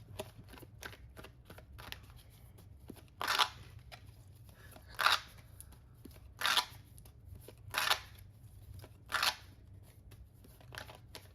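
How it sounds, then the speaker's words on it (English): A deck of tarot cards being shuffled, heard as a series of about six crisp riffling bursts at regular intervals, close and fairly quiet, separated by softer handling noise. "So let's shuffle. We're going to live shuffle."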